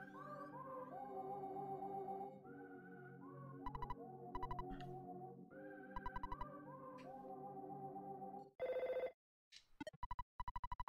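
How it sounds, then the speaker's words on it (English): A telephone rings in the video game EarthBound: faint, repeated electronic ring bursts cut in among quiet chiptune music, several short pulses in a row, then one longer tone and more quick pulses near the end. "Phone's ringing?"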